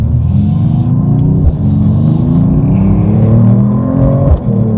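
Close, loud engine note of a 2025 Mercedes-Benz E53 AMG Hybrid accelerating hard in Sport Plus mode, climbing steadily in pitch through two gear changes with brief dips between pulls.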